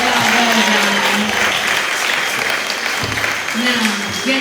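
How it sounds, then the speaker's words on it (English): A theater audience applauding a performer named Ursula at a show by The Speakeasy Four, sustained loud clapping with a voice speaking over it and tonal background sounds underneath. "one more round of applause for the lovely Ursula"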